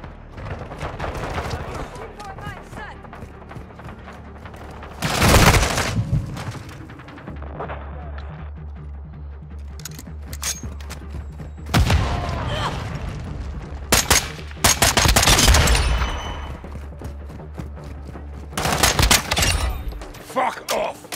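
Call of Duty: Modern Warfare II gunfire crackles in several loud automatic bursts, punctuating a steady low battlefield rumble, with in-game voices calling out between the volleys.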